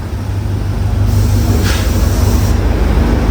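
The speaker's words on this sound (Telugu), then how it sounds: "ఇదిగోండి మన ట్రైన్ 8057 గులుకుమారి ఎక్స్ప్రెస్ అయితే వస్తుంది" Express train 8057 pulls into a coastal station in Sri Lanka, a loud continuous rumble and roar of rolling wagons that swells briefly mid-way.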